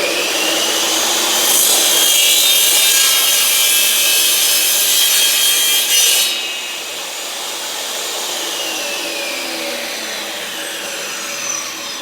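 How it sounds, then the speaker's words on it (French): A hand saw cuts through a floating laminate floor plank in steady, loud back-and-forth strokes, with the rasping continuing throughout at close range. "Vous voyez que ma lame de scie est sur la droite, enfin ou sur la gauche de votre côté du trait"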